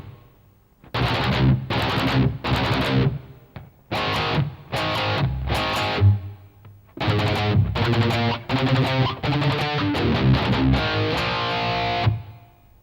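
Distorted electric guitar drives through the second half of a verse, loud power-chord bursts in repeated short groups with brief gaps, then a denser continuous run of chugging chords to the end.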